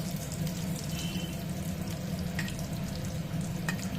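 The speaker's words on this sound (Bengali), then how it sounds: "এটা কিছুরই আওয়াজ নয় আমাদের চিমনির আওয়াজ" A kitchen chimney exhaust hood runs with a steady, even whoosh and low hum, close and continuous with no talking, while faint sink or water sounds come and go in the background.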